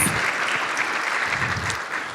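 Audience at a volunteer awards and recognition event gives a round of applause for honoree Norma Dibb, dense sustained clapping from a large crowd, even and fairly loud throughout.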